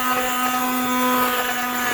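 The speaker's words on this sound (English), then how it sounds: "I just got I think it's called immersion blender, and I am just going to blend it all up and smooth it out." An immersion blender whirs steadily as it purees a pot of boiling chicken pozole, a loud continuous motor hum with a steady tone and no breaks over the two seconds.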